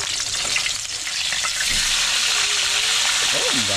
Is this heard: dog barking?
no